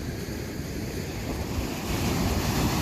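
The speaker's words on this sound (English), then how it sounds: "Waves are coming in." Ocean waves wash onto the shore at Clacton-on-Sea at sunset, a steady broad roar of surf mixed with wind buffeting the microphone, building slightly toward the end, no talking.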